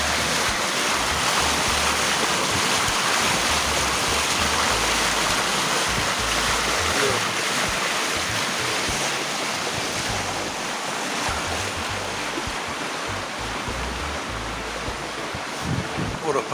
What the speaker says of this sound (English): Love the sound of that water against the hull